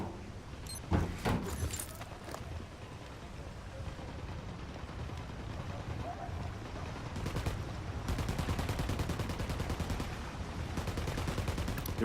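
Rapid bursts of automatic gunfire ring out in the tactical shooter Ghost Recon Wildlands, a brief early volley followed by long sustained sprays of shots over a busy, noisy battlefield background.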